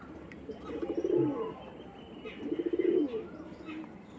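Soft, repeated cooing of dragon-face, green-eyed pigeons: two rolling, throaty coo phrases a little over a second apart, close but gentle over quiet room noise, with faint chirps in the background.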